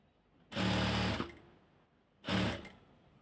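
A sewing machine stitches hijab fabric in two close, loud runs. The first lasts under a second and the second is shorter, with a quiet pause between them.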